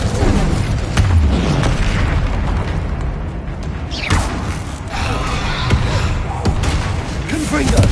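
Incendio fire spells are cast in the Hogwarts Legacy video game, producing repeated deep booming blasts and crackling bursts over dense combat noise, with voices mixed into the fray.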